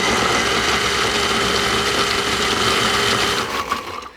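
A KitchenAid Ultra Power blender whirs steadily as it stirs a raspberry vinaigrette of raspberry vinegar and oil, a loud continuous motor hum that falters and winds down in the final half second.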